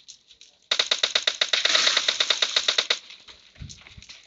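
Rapid automatic gunfire in the PUBG Mobile video game, a fast burst of sharp repeated shots lasting about two seconds, followed by a few scattered fainter pops.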